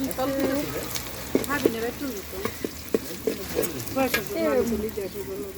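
Onion, cinnamon, cardamom and bay leaf fry in oil with a steady crackling sizzle, a little stirring and clatter, while a voice talks over it throughout.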